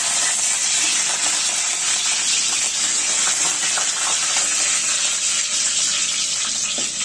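Curry leaves dropped into hot oil with browned garlic cloves, hissing and crackling in a loud, steady sizzle that runs without pause, close up.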